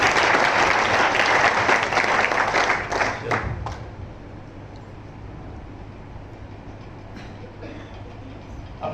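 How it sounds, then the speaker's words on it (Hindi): Loud, dense applause from a large audience at an indoor health business meeting in India, filling the first few seconds and then fading to a quiet room hum with scattered claps. "तो एक बार नए लोगों के लिए जोरदार तालियां।"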